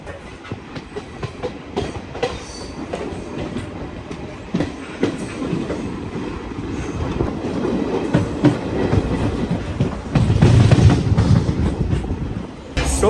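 Siddipet special DEMU train running just after leaving Manoharabad, with steady clickety-clack of wheels over rail joints and a rising, heavier rumble toward the end, close and loud with no voices.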